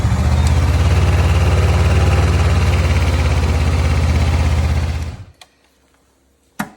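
A Honda CB500X motorcycle engine idles with a steady, loud, throbbing rumble for about five seconds, then cuts off, leaving near silence and a couple of small clicks.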